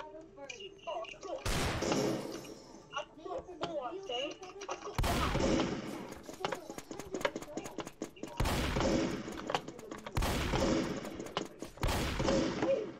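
Video game gunfire in a battle royale match: repeated loud bursts of rapid shots and heavy blasts in clusters, with quieter stretches and a voice talking between them.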